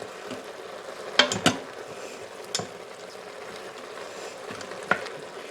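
Drained, rinsed chow mein noodles are stirred in an Instant Pot for chicken chow mein, giving a few sharp scraping and clinking knocks against the pot over a low background sizzle.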